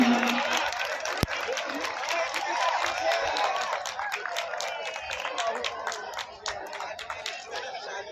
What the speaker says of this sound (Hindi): एक बार जोरदार तालियों से स्वागत अभिवादन।